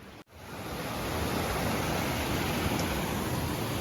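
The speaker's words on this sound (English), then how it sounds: "it's a pretty delightful creek to walk along" A creek in a forest valley in South Kananskis flows in a steady, full hiss of running water after a brief dropout at the start, with no talk.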